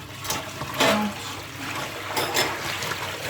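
Leftover chicken broth poured out into a kitchen sink while washing up, a splashing, gurgling stream with a few stronger gushes over about three seconds.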